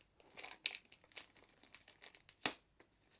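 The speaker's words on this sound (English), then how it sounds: "So there's a glue strip along the top. The hard part is just finding the edge. So we've got it. So we just peel this back." A glue strip on a resealable plastic bag is peeled back in a few crinkly pulls, close and quiet, with a sharper rip-like crackle near the end.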